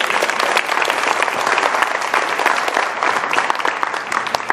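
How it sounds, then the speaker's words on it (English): A room full of people bursts into steady, dense applause for the founder of a youth success movement, loud and continuous throughout with no voices over it. "thank round of applause for her"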